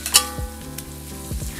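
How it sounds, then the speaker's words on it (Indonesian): Spiced sauce for potato sambal goreng with quail eggs being stirred in a pan, with a steady close sizzle of frying and a few scraping stirs of the utensil against the pan. "aduk-aduk hingga tercampur rata"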